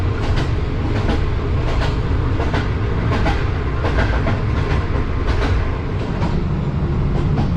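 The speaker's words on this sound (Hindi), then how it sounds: "ट्रेन ऑन टाइम निकल चुकी है रावलपिंडी से" A passenger train rolling on after leaving Rawalpindi, heard from inside the guard compartment: a steady loud rumble with rhythmic clickety-clack wheel beats over rail joints throughout, and no voices.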